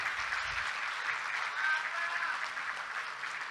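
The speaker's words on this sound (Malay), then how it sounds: "Tepukan paling gemuruh untuk Tan Sri Dato' Seri Muhyiddin Yassin." A political rally crowd applauds Muhyiddin Yassin, producing a distant, even roar of many hands clapping at once, continuous and fairly faint, with no distinct voices.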